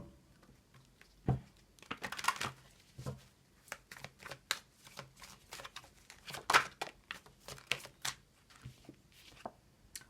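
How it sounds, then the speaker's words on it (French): Tarot cards shuffled by hand in a quiet room, giving an irregular run of soft riffling slaps and papery crinkles, close and fairly faint, with no talking. "on a la carte de l'oubli qui vient de se retourner, mais je vais quand même les mélanger"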